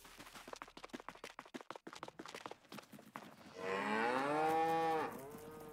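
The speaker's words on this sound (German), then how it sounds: "dann gehen wir mal gucken, was sagen unsere Kühe." Footsteps run across the ground, then a single cow gives a long, loud moo in the Farming Simulator 22 video game.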